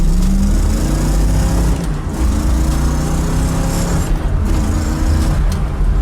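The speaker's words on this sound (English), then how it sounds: "You hear it backfire, and how awesome is that?" A 1964 Chevrolet Impala SS with a 409 cubic inch engine rumbles loudly and steadily while driving, with a few brief sharp pops and dips suggesting backfires through the low, dense exhaust drone.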